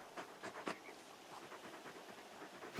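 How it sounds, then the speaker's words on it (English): A very big dog pants in quick, faint, rhythmic breaths, close but quiet, with a louder huff at the end. "You're just a big puppy, aren't you?"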